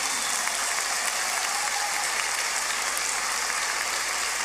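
Applause from an audience at a municipal public accounts ceremony, a dense, even crackle of many hands clapping that holds steadily without pause.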